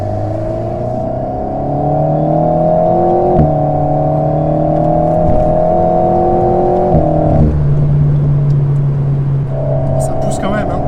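An Alpine A110 Pure sports car accelerates hard, heard from inside as a loud engine whine climbing in pitch through several gear changes with brief dips between shifts.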